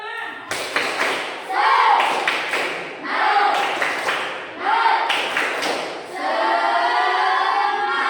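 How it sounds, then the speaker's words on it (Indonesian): A school class performs the 'tepuk semangat' spirit chant, with bursts of rhythmic group clapping and thumps mixed with children's voices chanting together in an indoor classroom. "Tepuk semangat."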